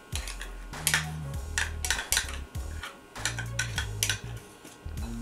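A spoon scrapes and clinks against a bowl while mixing a dipping sauce of hot mustard, mayonnaise and yogurt, in uneven repeated strokes with short clacks, close and moderately loud.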